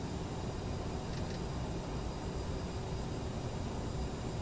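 A CRJ 700 jet on its takeoff run in Microsoft Flight Simulator, heard as a steady, even engine roar with a broad, constant rumble that neither rises nor fades.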